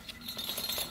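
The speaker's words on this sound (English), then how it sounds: "you ring the bells," Small bells hung at a back door jingle and clink in a brief, bright cluster, close by, in a quiet indoor setting with no talking.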